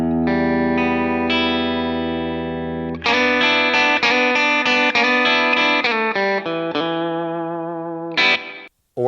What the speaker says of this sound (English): An electric guitar can sound like this.